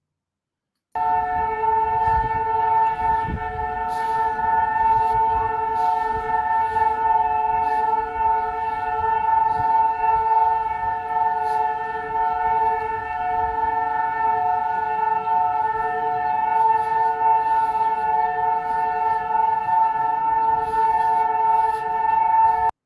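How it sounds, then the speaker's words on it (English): A long, steady siren wails continuously at a constant pitch for about twenty seconds, loud and unbroken, with faint background noise. "this always blows me away when the siren goes off in the day."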